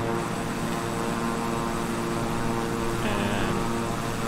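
Beechcraft 350i King Air turboprop in Microsoft Flight Simulator near Miami–Palm Beach: a continuous loud propeller and engine drone with steady tonal whine, a brief brighter swell near the end.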